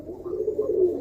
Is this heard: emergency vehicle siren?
no